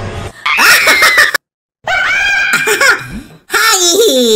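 Several people scream and shriek in bursts with laughter mixed in, loud and close, cut by a short silent break before the voices resume.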